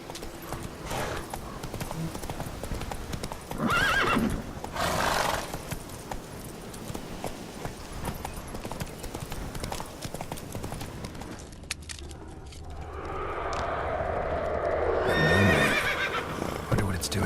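In The Witcher 3, a horse neighs and whinnies twice, then breaks into rapid clip-clop hoofbeats of galloping that swell louder toward the end, with brief game voices in the mix.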